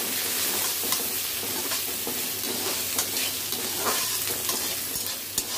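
Thin-sliced medium potato frying in a pan for a vermicelli vegetable khichdi, with a loud steady sizzle and repeated spatula stirring scrapes and taps throughout and no talking.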